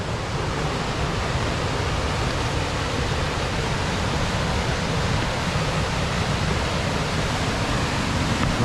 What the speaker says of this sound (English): And then right down these stairs, there's a waterfall.